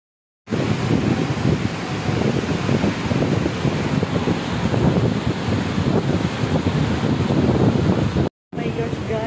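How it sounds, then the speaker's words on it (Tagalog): Heavy rain driven by strong gusting wind, a loud, dense roar with buffeting wind against the microphone, steady throughout apart from one brief dropout near the end. "Napakalakas ng ulan. At with the hangin effect."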